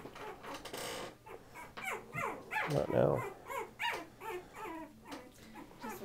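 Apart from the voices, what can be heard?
Patterdale Terrier puppy whimpering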